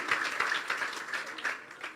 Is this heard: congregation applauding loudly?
yes